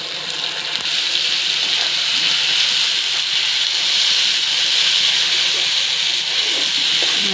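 Spice paste poured into hot oil with browned onions for a Bengali-style shankar fish curry, producing a loud, steady, close hissing sizzle that fills the whole stretch without talk.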